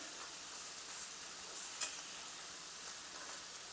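A spoon stirs grated coconut in a bowl, making a soft, steady gritty rustle with one brief clink of metal, close and quiet with no talking.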